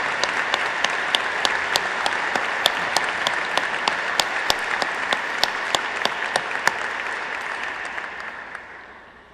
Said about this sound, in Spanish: les demos a todas y a todos un gran aplauso